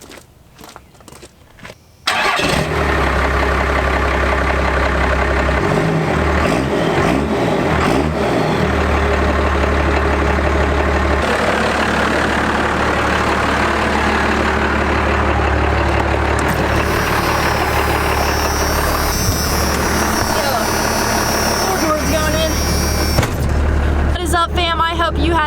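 A truck engine turns over and catches, then settles into a loud, steady idle with a deep rumble that holds for over twenty seconds, close up and constant.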